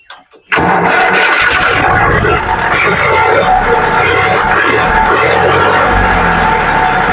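A farm tractor with a newly connected battery cranks briefly, then its diesel engine catches and settles into a loud, steady running chug that holds close for several seconds.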